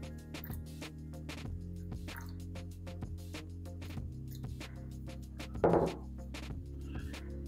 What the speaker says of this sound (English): Then I'll add 50 warm water.